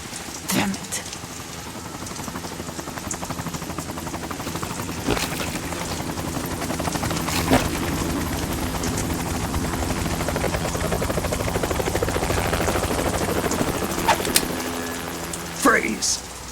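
A helicopter drones in a steady whirring rumble throughout a scene from the PS2 game Metal Gear Solid 2: Sons of Liberty, with a few sharp impacts and voices speaking over it.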